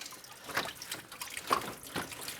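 Coolant water leaks and drips from a car's removed thermostat housing, falling in a few distinct close drops over a faint trickle.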